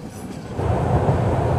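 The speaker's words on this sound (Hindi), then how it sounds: "फिलहाल हमारी ट्रेन बढ़ रही है नाल हॉल्ट रेलवे स्टेशन की तरफ" A passenger train rolls along the Lalgarh–Phalodi rail line, a loud, steady low rumble of wheels and carriage noise heard from on board, building slightly over a short stretch.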